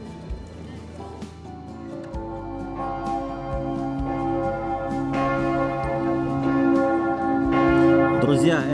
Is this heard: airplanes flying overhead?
no